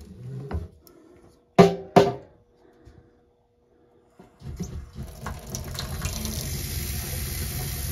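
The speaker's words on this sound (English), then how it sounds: "Let's go try this kitchen sink out first." Cold water runs from a kitchen sink tap after the valves are opened for a newly installed Fogatti tankless water heater, a steady broadband rush starting partway through and continuing to the end, preceded by a few knocks and clunks.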